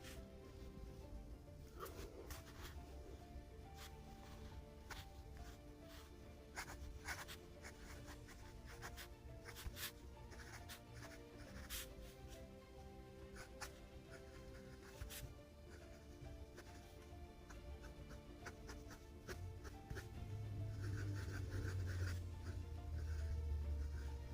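A fine-nib Pilot Custom 823 fountain pen writes on paper with faint, close scratching strokes and soft rubbing, with quiet handling noises and a breathy low rumble building toward the end.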